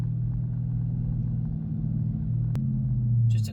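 A manual Dodge Challenger R/T engine rumbles low and steady on a quick drive around the block in sport mode, with a brief shift-like change partway and a slight swell near the end, heard from inside the car.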